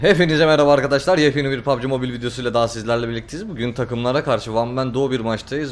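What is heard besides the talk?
No distinct noise like a dog, phone or traffic.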